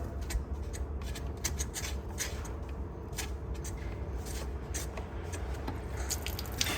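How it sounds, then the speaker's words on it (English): Water drains from the drain plug of a 2023 Forest River No Boundaries 20.3 Bunkhouse RV water heater, a steady close splashing trickle with scattered drips throughout and no voices. "Go ahead and take this guy out, start draining that water."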